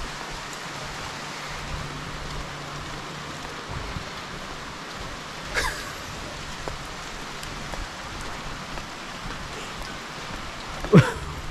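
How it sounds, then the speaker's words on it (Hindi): Heavy rain falling steadily in Srinagar near Dal Lake, a dense even hiss of drops on surfaces with a few louder splashes and knocks nearby, no talking. "क्योंकि बारिश बहुत ज़्यादा तेज़ है।"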